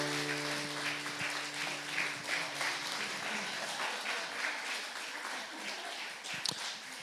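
A church congregation at a Sunday worship service breaks into applause, a dense wash of clapping that holds steady for several seconds and thins toward the end, with a few stray claps and brief organ or keyboard tones early on.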